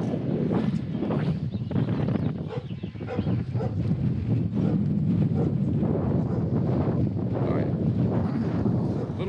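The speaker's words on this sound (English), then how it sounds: "windy right now." Strong wind buffets the microphone on a small farm beside a potato garden, a loud continuous rumbling roar with gusty swells throughout and no talking.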